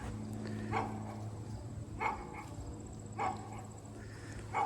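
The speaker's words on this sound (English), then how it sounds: "Dog is barking at me" A dog barks at a distance on a sunny October day outdoors: four separate single barks roughly a second or so apart, fairly faint against open-air background noise, with no talking.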